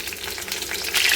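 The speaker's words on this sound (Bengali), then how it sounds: "নিরামিষ রান্নার জন্য তেল দিয়ে দিলাম, ফোড়নে দেবো 5 ফোড়ন আর শুকনো লঙ্কা" Bay leaf, dried red chilies and five-spice seeds sizzling in hot oil for a vegetarian dish, a dense crackling hiss that swells louder near the end.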